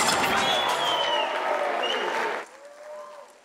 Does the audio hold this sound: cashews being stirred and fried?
no